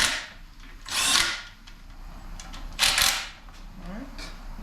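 Power tool run in two short bursts to tighten the transmission filter pan bolts on a 2005 Toyota Corolla, a loud whirring buzz each about half a second, separated by quieter shop background.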